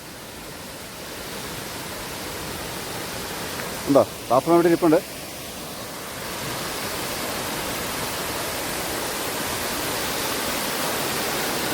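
A waterfall in rural Chengara roars with a steady, broadband rush of falling water that swells slightly toward the end, while someone briefly speaks over it near the middle.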